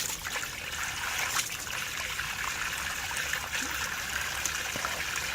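Water and loosened debris flush out of a pump in a steady, continuous rushing trickle that stays fairly even in level throughout, with no one talking over it.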